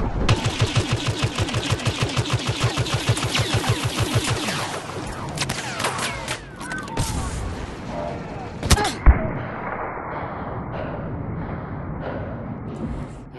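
Rapid gunfire in a Star Wars Battlefront multiplayer battle rattles loud and close in a fast regular burst, then gives way to scattered shots, blasts and battlefield noise.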